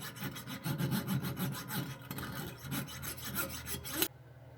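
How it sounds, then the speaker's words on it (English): A cleaning tool rasps back and forth inside a gas stove burner orifice, the close scraping strokes repeating in a steady rhythm before stopping abruptly near the end. "I found that it helps to slowly rotate the tool while pushing back and forth as well"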